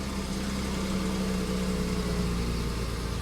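Steady, close idle of a 2017 Infiniti Q60's 3.0-liter twin turbo V6, a smooth continuous low drone with a slight tonal hum and no speech.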